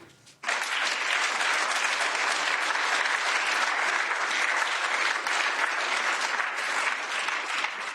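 An audience bursts into loud, sustained applause after a Greta Thunberg speech, a dense wash of clapping that starts abruptly and continues steadily to the end.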